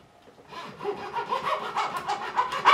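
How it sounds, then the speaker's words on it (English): A fine fret slotting saw with a half-millimetre kerf blade rasps back and forth through the fret slots of a guitar neck, steady close-up strokes growing louder toward the end, with no voices. "I'm going to take my fret slotting saw."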